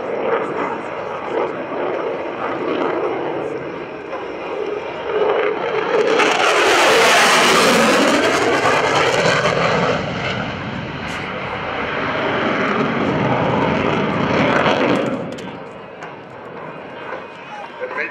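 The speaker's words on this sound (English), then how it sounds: "Demonstrate the low altitude, high speed capability of F-16 Fighting Falcon." F-16CJ Fighting Falcon jet making a low, high-speed pass at an airshow, a loud roar that swells to a peak, fades, then surges again, with an announcer talking over it.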